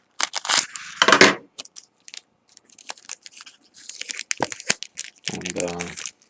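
Scissors snip open the foil wrapping of a Magic: The Gathering Return to Ravnica Rakdos guild pack, a few close crunchy cuts and crinkles between stretches of talking.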